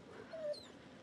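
A dog whimpers softly in the horror video game The Devil in Me, one brief faint whine over a low ambient hum.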